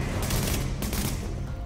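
Sustained automatic gunfire in the video game The Division, a dense continuous burst of rapid shots with a couple of stronger cracks, loud and close with no voice over it.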